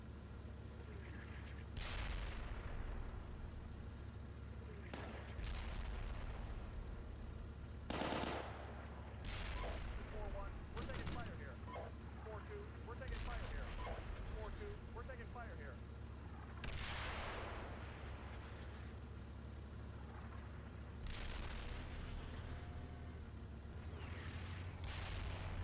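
Artillery fire in the tank simulation Steel Beasts, a scattered series of sharp booms and cracks spread over a long stretch, some near and loud, others distant, with faint talk between blasts.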